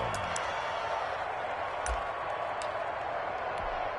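Steady roar of a stadium crowd in a football video game on a short-yardage third down, a dense wash of noise running throughout with a few faint sharp accents, under no clear speech.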